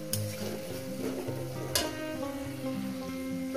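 Masala spices sauté in a pan with a few grains of sugar, giving a steady soft sizzle with scraping and stirring, and two brief sharp clinks of a utensil against the pan.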